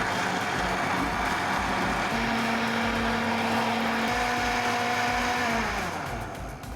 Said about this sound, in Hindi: This will go straight into the mixer grinder. इसे अब हम ग्राइंड करेंगे।